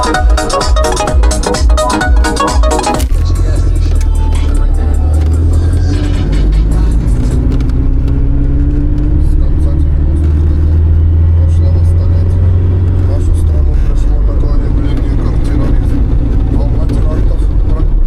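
A car engine with a knocking fault under the hood rumbles loudly and steadily, shifts in tone, then cuts out as the car stalls, leaving quieter background noise.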